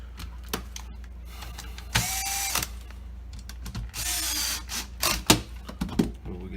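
Screws driven into an NES console by a small power driver, several short whirring bursts with clicks and ratcheting between them, close and fairly quiet, with no talking.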